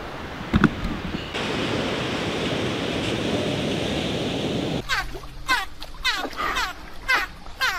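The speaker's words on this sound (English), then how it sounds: "Now I'm going to the beach." Ocean surf roars at a quiet beach as a broad, steady wash for several seconds before cutting off, followed by a person talking close by.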